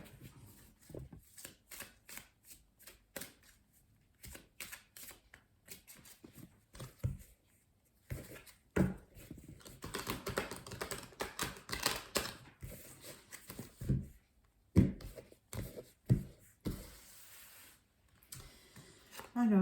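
Tarot cards are shuffled and drawn for a nine-card reading, giving bursts of soft riffling and crisp flicks separated by short pauses, fairly close and quiet, with some speech.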